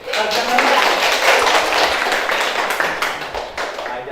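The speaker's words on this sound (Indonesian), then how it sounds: "Tepuk tangan." An audience at a teacher training session claps together. The dense, steady applause lasts about four seconds and fades slightly at the end.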